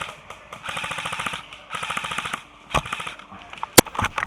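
Airsoft sniper rifle fired outdoors during an airsoft game, heard as two sharp, loud snapping shots late on, following a stretch of rapid clattering bursts from other airsoft guns.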